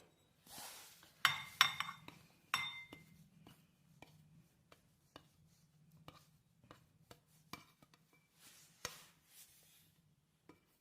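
Fried snacks for masala puri being moved into a large utensil, with a series of sharp metallic clinks and clatters of dishes, some bunched together and others spaced out, against a quiet kitchen background.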